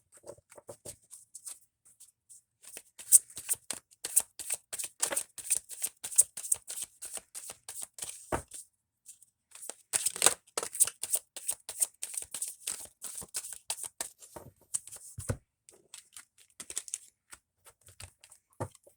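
A deck of tarot cards being shuffled by hand in repeated bursts of crisp riffling and pattering, close and fairly quiet, with short pauses between runs.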